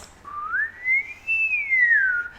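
A person whistles a short rising and falling tune, a clear, close, solo whistle to set off a key finder, heard indoors with no talking.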